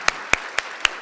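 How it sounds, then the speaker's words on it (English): Applause at a neighborhood awards ceremony, heard as four loud, evenly spaced claps close by over a low steady background wash. "So give them a round of applause for making this beautiful facility available to us."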